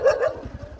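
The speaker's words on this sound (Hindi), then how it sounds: "कुत्ता को क्या हो गया बे?" A dog gives one or two short, close barks outdoors on a mountain walk, followed by faint low rumbling background noise.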